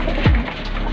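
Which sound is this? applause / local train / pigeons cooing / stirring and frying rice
pigeons cooing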